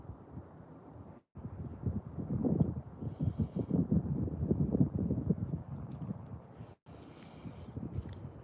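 Strong wind buffets the microphone out on the water during a fishing trip, a rough, gusty roar that swells and eases over several seconds, briefly cutting out twice.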